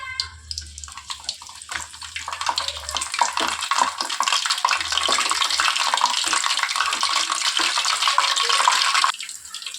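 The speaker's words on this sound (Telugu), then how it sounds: "సో ఇక్కడ ఒక 4 పచ్చిమిర్చిని ఇలా కట్స్ పెట్టుకొని ఫ్రై చేస్తున్నాను." Four green chillies, slit lengthwise, frying in hot oil in a kitchen pan, with a steady loud sizzle and crackle that builds and holds, then cuts off abruptly near the end.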